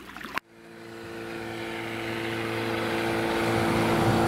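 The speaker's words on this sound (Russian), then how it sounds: "Впервые за 2 дня нам встретилась моторная лодка." A motorboat engine on the Voronezh River drones steadily after a sharp break, holding a low hum that slowly grows louder as the boat approaches.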